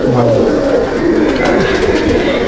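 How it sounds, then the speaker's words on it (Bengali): A pigeon coos in a loft, giving close, soft, repeated low calls over a light background hum. "এটা আমার ঘরের ধাড়ি পায়রা"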